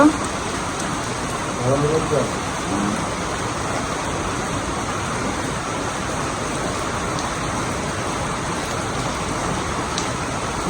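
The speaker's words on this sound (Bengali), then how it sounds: "ভালো বৃষ্টি হচ্ছে" Steady rain falling at a village home, an even dense wash of noise with a few faint voices briefly in the background early on.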